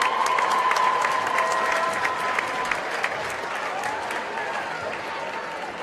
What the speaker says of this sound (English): we could give her an extra round of applause, please